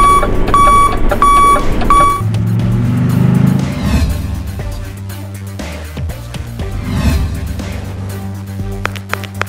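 A tow truck's reverse alarm beeps in rapid repeated tones at the start, then a vehicle engine and mechanical noise take over as a car is towed, loud and close with no talking.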